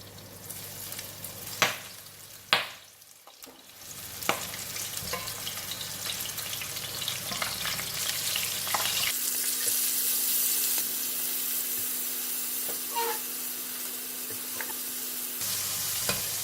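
Floured prawns for salted egg prawns hitting a hot pan: a few sharp knocks at first, then a dense, steady sizzle that builds and holds, close and loud with no talk.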